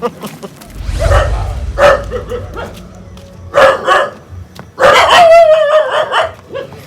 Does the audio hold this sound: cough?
no